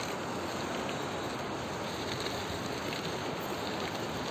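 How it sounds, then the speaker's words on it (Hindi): The Beas River flows below a hillside road between Mandi and the Pandoh dam, a constant broadband rushing of water heard from a distance, steady and unbroken with no voices. "लीजिए देखिए ब्यास नदी"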